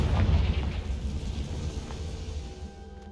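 A Confringo blasting spell goes off in the game Hogwarts Legacy, a heavy low boom with a rumbling roar that slowly fades over a few seconds, loud and close, no talking.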